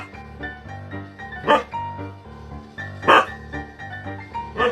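A dog gives two loud, sharp barks about a second and a half apart over steady background music.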